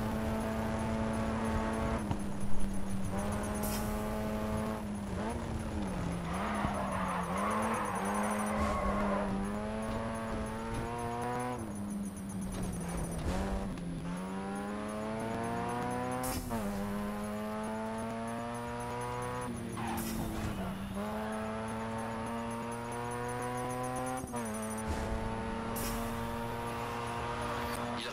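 Race cars in the Grid 2 racing game rev continuously, with engine pitch rising and falling through gear changes and a few tire squeals, loud and unbroken for the whole stretch with no talking.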